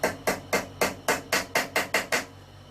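A hammer taps a small pin held in a vise jaw during a die-cast toy restoration, ten sharp metallic strikes in a steady quickening rhythm, close and alone.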